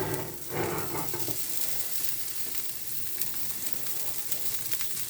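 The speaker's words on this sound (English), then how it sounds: "I'm just going to let them sear a little bit" Prime rib pieces searing in a hot pan, a loud continuous sizzle and crackle close by, with a brief rustle of movement at the start and no talking.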